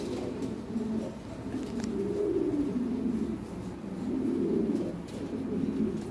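Lahori Sirazi pigeons coo on a pigeon farm, a soft continuous murmur of overlapping low coos with gentle swells, fairly close and with no talk.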